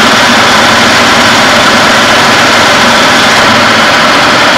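A running 1999 Toyota Tacoma engine idles with a loud, steady, close drone as the A/C compressor engages, and the broadband hum continues unbroken.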